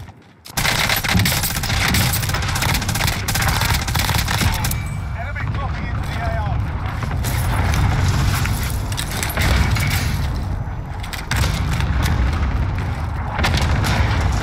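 Dense gunfire and booming explosions from a Warzone battle royale match, with a MAC-10 submachine gun in use, roar continuously and loudly across the whole stretch, with a brief quiet moment at the very start.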